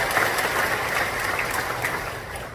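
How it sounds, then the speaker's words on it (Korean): A church congregation at a youth summer service applauding together, a dense, sustained clapping from a crowd that fills the space and tapers slightly toward the end. "다시 한번 박수 한번 할까요?"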